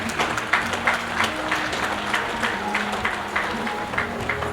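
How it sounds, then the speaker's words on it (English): Steady, moderately loud applause fills a gathering at the opening of the 2025 National Agriculture Show in Nadi, Fiji, with distinct claps pulsing evenly through a continuous crowd wash. "Another big round of applause for the official opening."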